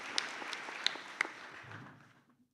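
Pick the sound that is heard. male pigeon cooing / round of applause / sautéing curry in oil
round of applause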